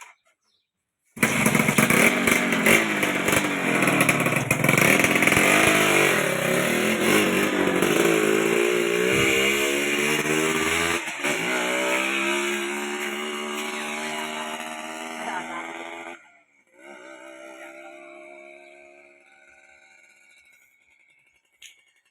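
A Honda Dash 125 motorcycle engine revving hard and loud, pitch climbing and dropping as it shifts up through the gears, then cutting off abruptly and fading to quiet near the end.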